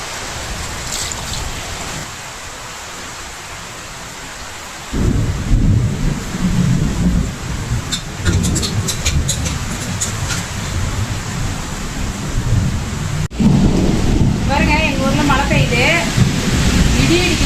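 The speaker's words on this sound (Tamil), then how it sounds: "பாருங்க மின்னல் வேகமான மின்னலும் இடியும் பாருங்க அதிகமாக இருக்குது மழை லைட்டா தாங்க பெய்யுது இடி மின்னல் தான் அதிகம்" Thunderstorm with heavy rumbling thunder and repeated sharp cracks over a steady wash of light rain, loud and close, with a sudden boom near the end.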